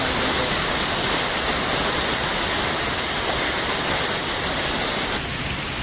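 A waterfall roars in a steady, unbroken rush of falling water, loud and close, with no voices over it.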